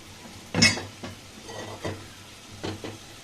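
Cooking oil hits a hot pot with a sharp burst of sizzle, then a few softer stirring scrapes and sizzling surges follow, close and quiet.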